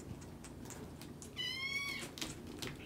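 A kitten gives a single clear, drawn-out meow lasting about half a second, heard indoors over light background rustle.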